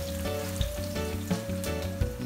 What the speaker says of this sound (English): This is my onion and my sweet pepper. I give it a little fry, not much.